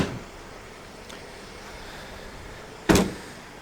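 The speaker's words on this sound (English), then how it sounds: "If we shut the doors" A single solid door slam on a Ford Transit Custom Limited van shuts sharply near the end, loud and close, after a faint earlier thud against quiet background.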